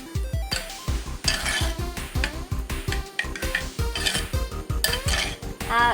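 Rice and curd are mixed slowly in a pot, giving a rhythmic run of rapid metallic clinks and scrapes of a utensil against the vessel, loud and close, with a low pulsing hum behind and no speech.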